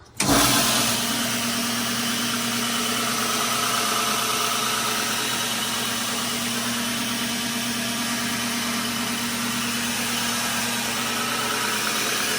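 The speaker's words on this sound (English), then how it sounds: "luckily I had a 1 horsepower Baldor 1725 RPM motor" A 1 hp Baldor 1725 RPM electric motor drives a sander. It starts up and then runs with a loud, steady, even hum and vibration for the whole clip, with no talking.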